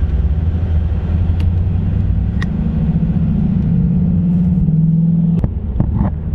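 A Nissan 350Z drives past close by, its loud engine rumble rising and holding as the car passes, with a low droning exhaust note throughout.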